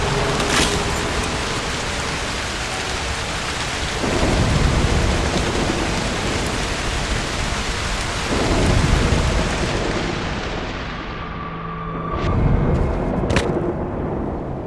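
A video game thunderstorm with heavy, steady rain hiss and several deep thunder rumbles rolling in at intervals, loud and continuous, with no voices.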